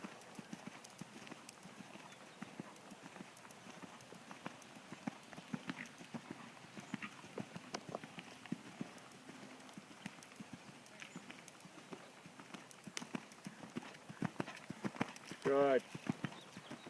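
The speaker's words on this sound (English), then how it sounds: "you can let the trot grow a little into the canter" A horse moves around an arena in a steady clip-clop rhythm of hoofbeats, lifting from trot into canter, while an instructor's voice speaks over the footfalls at moderate distance.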